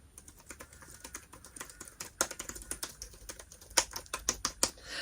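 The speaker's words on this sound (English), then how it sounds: "They say the keys are clickety-clackety." Keys clack on a small battery-powered typewriter, a fast, irregular run of crisp, close-up taps that grows denser and louder toward the end, with no talking.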